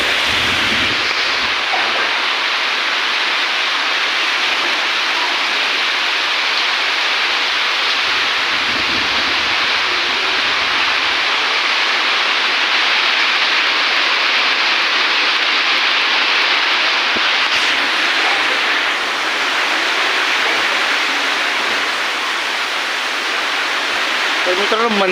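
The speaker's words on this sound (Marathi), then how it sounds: "पाऊस जोरात चालू आहे" Heavy rain pours steadily at a temple, a loud, dense hiss that stays constant throughout with no voices standing out.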